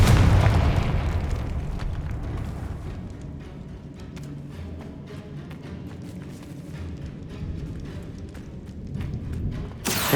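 A Confringo fire spell blast in Hogwarts Legacy hits loud at the start with a deep boom that decays into a rumbling tail, leaving low crackling residue over the remaining seconds.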